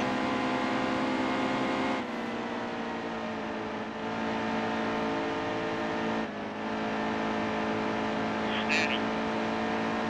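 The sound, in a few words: race cars driving in NASCAR Heat 2 video game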